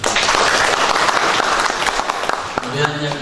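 Seminar audience in Temanggung claps loudly and steadily for a speaker, a dense burst of applause with scattered voices and a sustained tone near the end.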